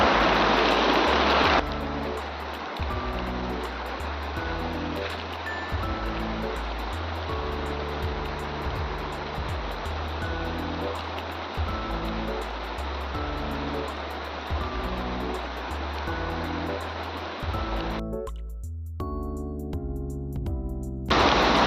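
A Himalayan river rushes near Mana Village by Badrinath, a continuous loud broadband roar of flowing water heard up close, with a muffled, handled stretch and a brief change near the end.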